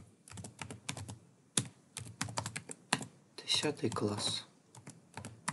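Keys clatter on a computer keyboard as text is typed, in quick bursts of clicks with short pauses between them and a voice speaking over parts of it.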